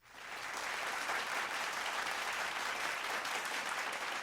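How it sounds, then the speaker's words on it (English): An audience at a city's State of the City address gives a big round of applause for city leaders, swelling quickly into a steady, even wash of clapping from a large crowd, heard from some distance without talk. "Let's give Nina, Chief Gullberg, and Chief Lewis another big round of applause."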